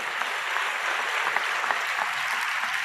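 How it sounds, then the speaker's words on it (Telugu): Church congregation during a sermon giving a steady round of applause, a dense continuous clatter of many hands, fairly loud and even from start to finish with no talking over it. "ఇప్పుడు కొట్టాలి కదా చప్పట్లు."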